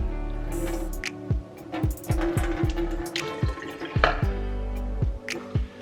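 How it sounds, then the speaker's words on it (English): Dirty water from a carpet cleaner splashes and gurgles into a sink in uneven pours, with a few drips and wet sloshing sounds close by. "Alright, so I'm just about to pour this in the sink."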